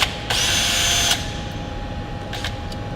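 A power driver unscrews a Torx 25 screw from underneath the frame of a 2018 Kuberg Freerider electric bike: one steady, loud whir lasting under a second, then a faint motor hum and small clicks.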